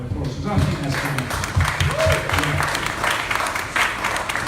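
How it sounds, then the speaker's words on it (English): Audience applause at a ribs restaurant's beer-launch event, broad clapping running steadily through the clip with talk and crowd noise mixed underneath. "let's give him a big round of applause"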